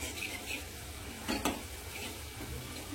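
Tomatoes being sautéed in a pan to soften them for a simple varan give off a faint, steady sizzle, with a couple of brief clinks from a spatula stirring against the pan.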